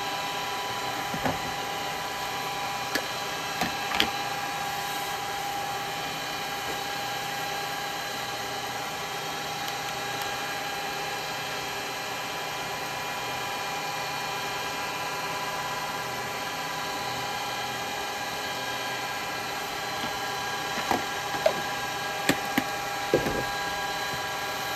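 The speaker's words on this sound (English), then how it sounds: "We'll tickle it with the sandpaper." Sandpaper is held against a live-edge yew tea light holder spinning on a woodturning lathe, giving a steady, even hiss over the lathe's constant droning hum, with a few small knocks and no talk.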